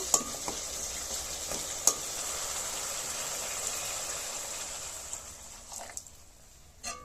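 Liquid poured into a tomato-carrot masala frying in oil, giving a steady hissing sizzle with a few sharp clicks and scrapes that fades out toward the end.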